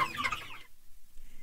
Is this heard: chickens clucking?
yes